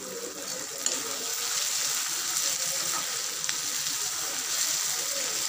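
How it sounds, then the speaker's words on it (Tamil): Tomatoes sautéing with salt in a kadai for mushroom gravy, a soft continuous sizzle with faint watery hiss and a few light clicks, no voices. "தக்காளி வதங்க நான் கொஞ்சம் உப்பு சேர்த்துக்கிறேன்."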